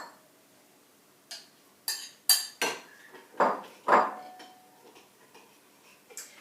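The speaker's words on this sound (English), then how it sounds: "We've lightly beaten 2 eggs together. We're going to mix that with 1 teaspoon of vanilla essence." A utensil mixes lightly beaten eggs and vanilla essence in a bowl, giving a series of sharp, irregular clinks and taps against the bowl, close and otherwise quiet.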